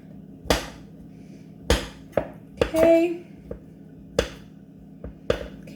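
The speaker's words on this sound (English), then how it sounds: "I'm gonna take a knife and I'm gonna chop it up a little bit more." A knife chopping chocolate on a board during bread making: a handful of sharp, irregular knocks spread out in time, close and fairly crisp, with a faint clink in the middle.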